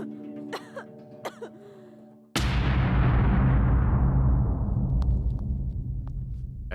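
Short coughs and throat clearing from a woman on a film set, a few isolated bursts, then a sudden loud, sustained rumbling roar with a long decay that buries everything.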